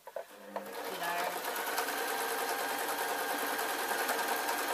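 Cheap sewing machine stitching an office-style work dress with pleat detailing, a steady close whirring hum starting after a brief knock and running continuously.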